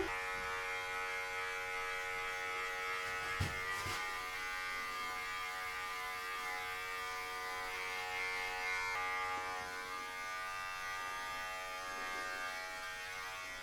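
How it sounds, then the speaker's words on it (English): Cordless hair clippers buzz steadily as they shave a man's head down to bald, a close, continuous electric hum with a brief louder scrape partway through and no talking. "So we're gonna shave completely my head"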